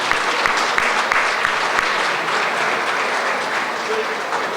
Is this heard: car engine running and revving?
no